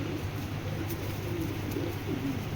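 A white racer pigeon coos in low, steady, rolling notes, close by, over a constant background hum with no talking.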